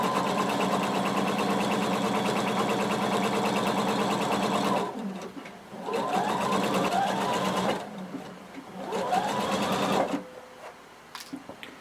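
Sewing machine stitching a continuous seam on a floor-length duster cardigan, a steady close motor whir for several seconds, then shorter start-stop bursts of stitching with pauses between.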